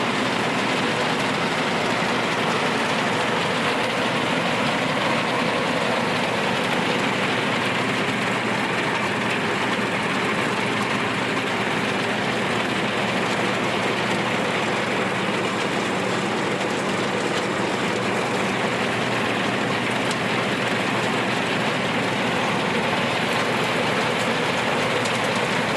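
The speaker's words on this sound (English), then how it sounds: "Here, the machine is separating your snaps from your peas and beans." A Huller Pro 2000 pea and bean huller runs steadily, its conveyor and blower separating snaps from peas and beans in a loud, continuous broadband mechanical roar that stays unchanged throughout.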